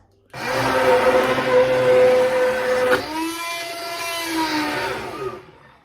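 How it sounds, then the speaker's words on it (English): A hand blender whirs loudly and steadily as it purées sweet potato and butternut squash soup, its pitch dipping partway through as the load shifts, then cuts off abruptly at the end. "So I'm using a hand blender."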